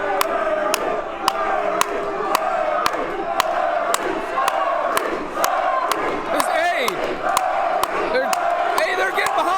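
A wrestling crowd at a Capital City Wrestling event roars and chants steadily in a large hall, with rhythmic sharp claps or stomps punctuating the loud, continuous crowd noise throughout.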